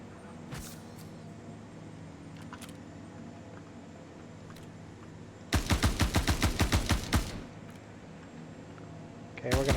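Rapid automatic gunfire bursts out in a video game shootout, a loud close string of shots lasting under two seconds, with a few single shots scattered before it and another burst at the end.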